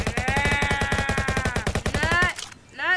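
Rapid AK-47 automatic fire in a video game, a dense run of sharp, evenly spaced shots that fills most of the moment before cutting off abruptly, followed by a short faint tail.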